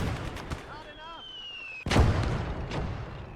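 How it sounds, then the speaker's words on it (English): Mortar firing in Gates of Hell Ostfront, a sharp nearby blast about halfway through followed by rumbling echo, with fainter distant gunshots and battle noise around a player's voice. "And my mortar's firing as well, which is good."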